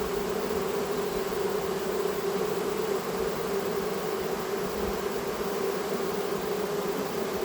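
Bees at an active beehive hum in a steady, dense drone, close and constant, with no voices over it.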